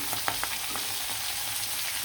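Hilsa fish pieces fry in hot oil for a tomato curry, giving a steady broadband sizzle with a few soft crackles and pops close by and no talking.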